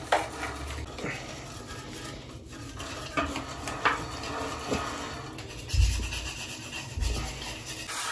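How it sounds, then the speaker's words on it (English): A brush scrubs cleaner through a bicycle chain, giving a steady close wet rubbing and rasping with brief louder scrapes and knocks, alone without talk. "Just put the cleaner again through the chain brush and give it a good scrub."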